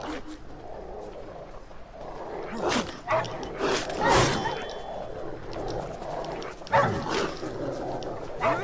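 Wild dogs bark and growl in a fight in The Witcher 3, with several sharp bursts of barking over a busy game soundscape of combat noise and music, and someone talking over them.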